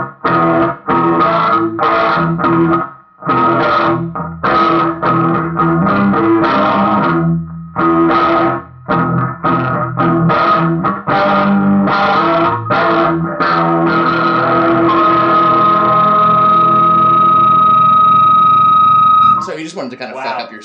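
Electric guitar notes smeared by heavy delay and reverb from a pedal, strummed in choppy bursts, then one chord left to ring out with echoing tails.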